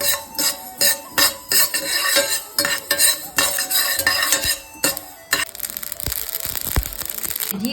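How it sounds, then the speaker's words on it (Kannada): Mustard seeds roasting in a pan for red chilli chutney, with a busy crackle and clatter of metal spoon against the pan, close and steady, with a denser hiss toward the end. "ಈಗ ನಾನು ಮೂರು ಚಮಚ ಸಾಸಿವೆ ಹುರ್ಕೋತಾ ಇದ್ದೀನಿ ಚಟ್ಪಟ್ ಆಗೋವರೆಗೂ ಹುರಿಬೇಕು"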